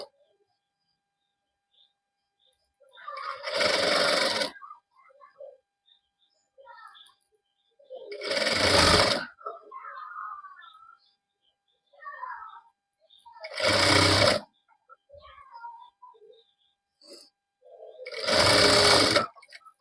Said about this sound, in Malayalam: ഇങ്ങനെ നമുക്കിത് സ്റ്റിച്ച് ചെയ്തെടുക്കാം. ഇതേപോലെ സ്റ്റിച്ച് ചെയ്ത് പോരാം.